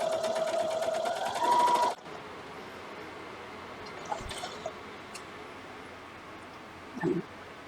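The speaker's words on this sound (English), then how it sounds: "Put my needle down, a couple stitches forward, and it's on basic setting on this foot." Sewing machine stitching fabric for vintage Sunbonnet Sue quilt blocks, a close rapid mechanical whir for about two seconds, then stopping, followed by quiet handling and faint clicks.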